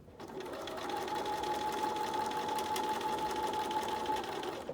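A sewing machine back-stitches a fabric mask, giving a steady, close whirring hum with a constant tone that runs unbroken for about five seconds with no talking.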